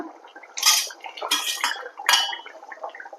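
Fried pumpkin stalks tipped into a rui fish curry with potatoes, followed by a few bright metallic clanks and scrapes of a spoon against the pot, close and clear, no talking.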